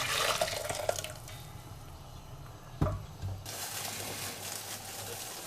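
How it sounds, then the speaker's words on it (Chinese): Leftover crucian carp soup is poured from one vessel into a pot, a steady splashing liquid stream nearby with a brief clunk midway, then the pouring continues. "剩下的鱼汤倒到这个锅里"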